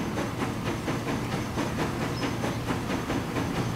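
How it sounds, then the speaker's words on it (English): A freight locomotive train in the video game Transport Fever rumbles along steadily with a low engine drone and faint rhythmic clacking, mechanical and continuous, with no voices. "this is our new freight locomotive"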